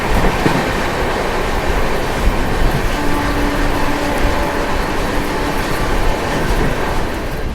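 Passenger train on a journey to Kashi, running steadily on its rails with a constant loud rumble and rolling wheel noise and faint tonal whines, close and continuous throughout with no talking.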